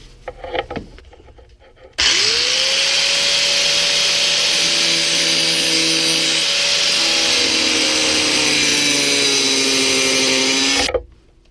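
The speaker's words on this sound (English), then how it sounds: "So I'm going to go underneath with a disc grinder." A disc grinder cuts off a rivet underneath a snowmobile, spinning up after a short lead-in into a loud, continuous high-pitched whine with a slowly shifting tone that runs for about nine seconds before stopping abruptly.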